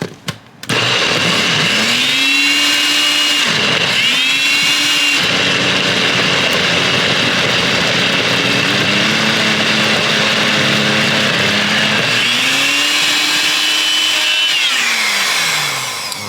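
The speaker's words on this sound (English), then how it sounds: "Alright, get it on the blender." A kitchen blender whirs loudly and steadily while blending a thick chicken satay sauce, its motor pitch dipping and rising as it pulses several times in short bursts with brief pauses between.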